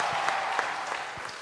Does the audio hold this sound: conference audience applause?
yes